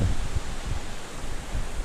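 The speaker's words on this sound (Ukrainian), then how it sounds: "Вітер все підсилюється." Steady, strengthening wind blowing outdoors while fishing, a broad low rumble with gusty buffeting against the microphone and no voices.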